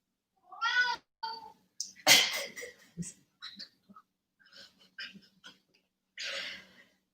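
An angry cat meows and caterwauls in several separate bursts, mixed with snorting, breathy sounds, close and fairly quiet, with no talking.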